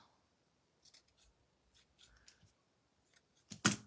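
Scissors trim small paper pieces for a shabby chic spring bunny craft, making quiet, scattered snips followed by one sharper, louder cut at the end, with no talking.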